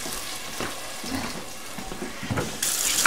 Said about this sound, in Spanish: Le voy a echar pura agua hirviendo.